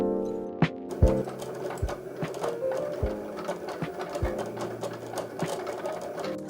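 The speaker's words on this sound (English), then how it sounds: "I am running this through my Cricut using the Vinyl Plus setting." A Cricut cutting machine cuts vinyl on the Vinyl Plus setting, with a steady mechanical whir and repeated clicks and thumps as the carriage moves, close and alone with no talk.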